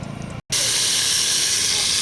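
Cooking oil heating over an open fire gives off a steady, bright hiss that starts abruptly after a short cut and stays loud and continuous to the end.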